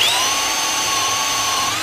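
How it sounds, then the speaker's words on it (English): A hole saw bores into pressure-treated lumber, a loud, steady, high-pitched power drill whine that holds constant, close up and alone. "This is what drilling this pressure-treated lumber does"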